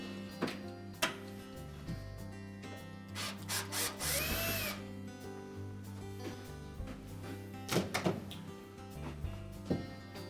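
A power screwdriver runs in short whirring bursts while removing the control panel screws from a Whirlpool range, with faint clicks and handling knocks between the runs. No one speaks.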